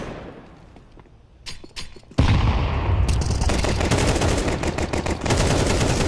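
Glock pistol fire during a Counter-Strike pro match, quick cracking shots in the middle of the round building into a dense, loud exchange of rapid gunfire.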